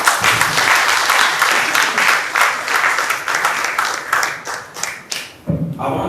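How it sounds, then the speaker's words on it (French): An audience at a talk on Beti ethnogenesis applauds the speakers, with steady dense clapping that carries on for several seconds before tapering into a few final claps. "Je voudrais qu'on applaudisse pour tous ceux qui ont pris la parole avant"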